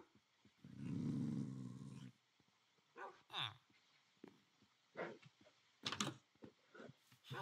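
Tamed wolves in the video game Minecraft make dog-like growls, whimpers and short barks, with a long low rumbling growl followed by scattered brief yelps and snuffles, fairly quiet and close.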